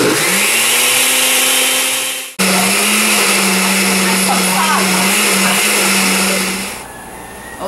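A kitchen blender runs loud and steady, blending onion, cilantro and tomato into salsa verde, with its motor briefly cutting out once before whirring on again and winding down near the end.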